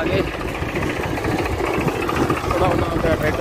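A Swaraj 735 tractor engine idles steadily nearby with a low, even rumble, while people talk over it.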